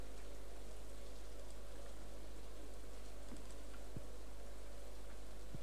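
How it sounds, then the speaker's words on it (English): Rain in the Stardew Valley farming game falls as a steady, even wash of hiss, with a constant low hum and a few faint soft knocks. "rain is my worst enemy right now"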